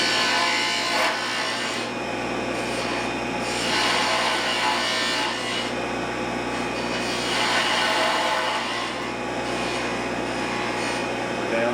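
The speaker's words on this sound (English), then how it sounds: "On the spindle gouge, I use the side of the gouge more than I use the tip." A spindle gouge cuts into wood spinning on a lathe, giving a steady, continuous rasping hiss that swells and eases as the tool rolls along the piece, with a voice speaking at times.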